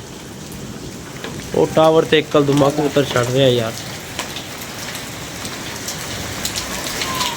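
Steady heavy rain pours across a rooftop setting where pigeons are kept, a dense hiss that runs the whole way through, while someone talks for a couple of seconds over it.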